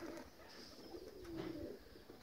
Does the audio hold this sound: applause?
no